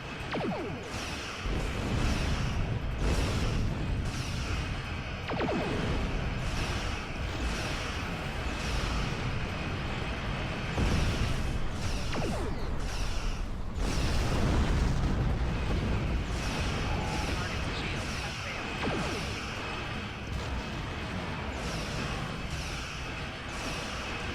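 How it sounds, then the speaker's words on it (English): Starship torpedoes fired and exploding in the space combat game Star Trek Online, repeated booming blasts and whooshes in a loud, continuous battle din. "Throw a torpedo in there."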